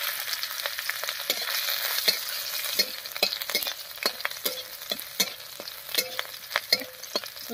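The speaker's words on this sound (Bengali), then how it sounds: "তেল গরম হয়ে গেছে, তেলের মধ্যে দেবো থেতো করা রসুন আর দিয়ে দিচ্ছি চেরা কাঁচা লঙ্কা।" Crushed garlic and slit green chillies fry in hot oil with a steady crackling sizzle, broken by repeated sharp scraping taps of a spatula stirring in the pan, close and clear, no voices.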